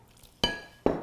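A utensil clinks twice against a glass bowl while avocado salsa with cumin is mixed, two sharp close knocks about half a second apart over quiet room tone.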